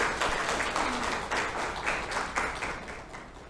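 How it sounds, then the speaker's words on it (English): An audience welcomes a speaker at a business breakfast meeting with a round of applause: steady, moderately distant clapping that continues evenly for a few seconds. "please welcome him with a round of applause."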